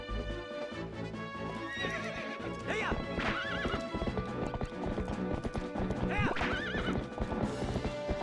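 Game audio of the horse Epona in Twilight Princess: steady galloping hoofbeats with two loud whinnies, heard over background music.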